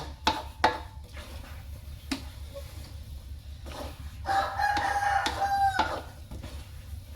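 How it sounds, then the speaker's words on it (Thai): A rooster crows clearly in the middle distance at a rural garden home, with scattered clucks and thumps around it and a low background hum. "ก็จะมีเสียงไก่ขันมั่งนะคะ"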